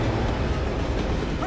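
A moving train in an animated RWBY episode rumbles loudly and continuously through this short moment, a dense low roar with a steady high whine above it.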